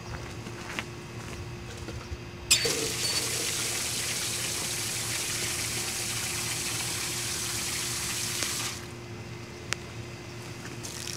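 Water is poured over an ARCHEER 16x52 monocular during a water test: a sudden, steady splashing hiss starts abruptly, runs for about six seconds, then cuts off, leaving quiet background.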